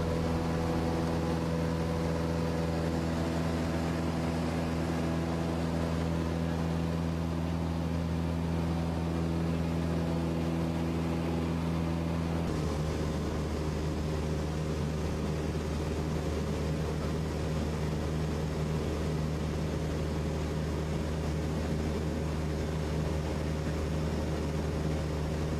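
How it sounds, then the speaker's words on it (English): Steady drone of a light training aircraft engine in flight during a trial flying lesson at Snowdonia Flight Centre, loud and continuous with a constant tonal hum and a slight shift in pitch midway, no talking. "the next thing I'm showing Sean is how we control the aircraft in roll"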